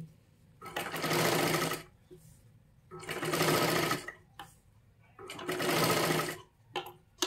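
A sewing machine runs in three steady bursts of about a second and a half each, separated by short pauses, while stitching a katori blouse seam slowly, close and clear with no talking.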